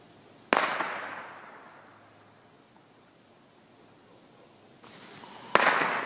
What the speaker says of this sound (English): I think that was a gunshot.